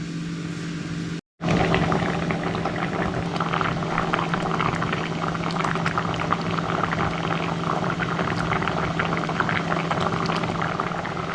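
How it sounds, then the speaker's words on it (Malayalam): A pot of clam meat curry with raw mango and coconut paste bubbling at a steady, vigorous boil, a dense continuous burble after a brief silent gap at the start. "ഇനി ഇതിൽ കിടന്ന് കുറച്ച് നേരം ഒന്ന് തിളയ്ക്കട്ടെ."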